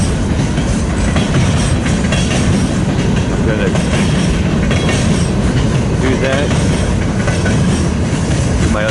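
A train passing in Fremont rumbles and clatters loudly and continuously, with rhythmic clickety-clack from the wheels and occasional squealing, while someone briefly speaks over it.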